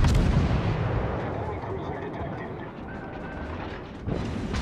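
Naval guns in World of Warships firing at an enemy ship: a heavy, booming salvo opens loud and rumbles away, followed by another sharp blast near the end.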